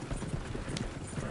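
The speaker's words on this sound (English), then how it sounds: "John, you'll run the horses into the ground" Horse hooves pound in a video game, a dense, continuous galloping rumble that is loud and close and fills the whole moment, with no voice on top.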